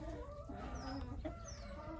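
Laying hens cluck steadily inside a coop, a close, continuous chorus of fowl calls with a few brief higher chirps over a busy low background.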